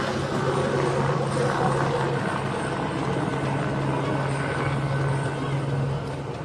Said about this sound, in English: Just listen to this kind of audio with this helicopter.